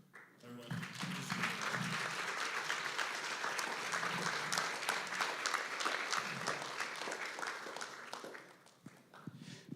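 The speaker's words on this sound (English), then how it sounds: "So I'd like to have a round of applause for everyone." Audience applause for the team behind a product feature at a tech summit demo lab, a dense, steady clapping that swells in at once and holds for most of the stretch before tapering toward the end.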